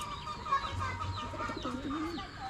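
Soft, low pigeon coos murmur close by over a faint background hum, with a few rising and falling calls.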